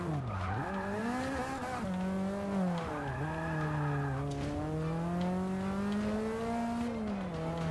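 A 2013 SRT Viper GTS races in Forza 6, its engine droning loudly and continuously as the pitch climbs and falls through gear changes, with faint tire squeal in corners.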